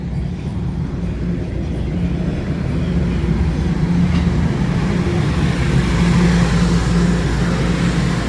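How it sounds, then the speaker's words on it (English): A loud, low rumble of a Toronto TTC subway train fills the station, steady and heavy with rolling mechanical drone and faint squeals, growing slightly as it arrives at the platform. "And here comes the train now"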